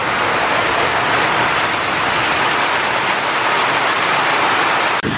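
Steady rain falling during a bicycle trip through Ecuador, a dense, even hiss that stays loud and constant throughout with no voices.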